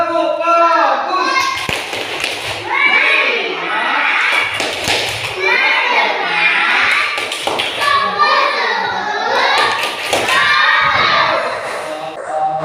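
A class of second-grade children in a gymnastics lesson does the "tepuk fokus" clapping routine, with rhythmic group claps and taps mixed with children's chanting voices throughout.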